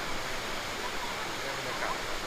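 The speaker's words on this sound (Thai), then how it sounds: "ด้านล่างเป็นน้ำตกเล็ก ๆ นะ" A small waterfall beneath a bridge gives a steady, even rushing wash of falling water, constant and moderately distant, with no break across the moment.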